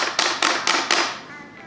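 Stock buttons or lever on a Qanba Drone arcade fight stick give five quick, close clicky taps in an even rhythm, fading into a brief quiet tail.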